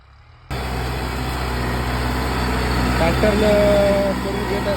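A Kubota tractor's engine drones steadily and loudly while it ploughs furrows in a sugarcane field, with a voice talking over the running engine partway through.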